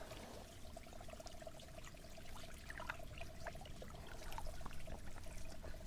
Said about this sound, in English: you can either swish it in water